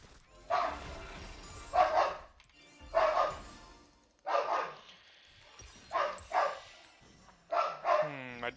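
Several dogs bark in short, repeated outbursts, moderately loud and a little distant, with quiet gaps between the volleys and a whimper near the end.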